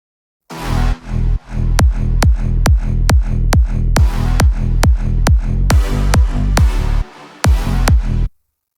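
An electronic dance drop: punchy kick drums with a downward pitch bend hit in a fast, steady rhythm, alternating with longer sustained synth stabs, loud and close, cutting off abruptly at the end.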